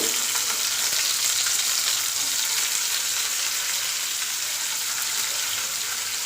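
Onions fry in hot oil in a pan, a dense, steady sizzle that runs loud and close from start to finish, with faint stirring and no voices.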